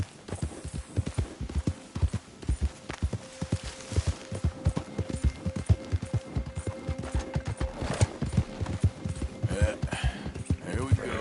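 A horse gallops in Red Dead Redemption 2, a rapid, steady clip-clop of hooves that continues throughout, close and fairly loud, with faint game ambience behind it and no talk over the hoofbeats.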